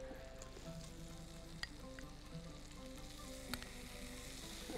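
Garlic frying in a pan, a soft continuous sizzle close by with a couple of faint clicks from a spoon or pan, quiet and steady with no voices.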